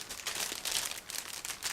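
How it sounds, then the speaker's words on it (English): A resealable plastic bag holding a 1/48 scale model kit's sprues crinkles and crackles steadily as it is handled close by, with no voices. "It's a resealable plastic bag, as you can notice."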